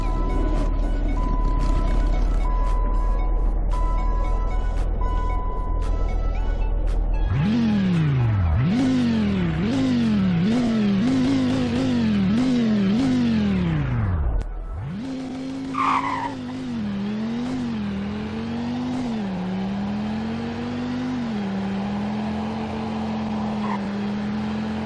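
Video game concept car with a Dodge Viper engine, a loud engine revving through repeated rising gear pulls, then a dip and a steady high drone with tire skidding, no voices.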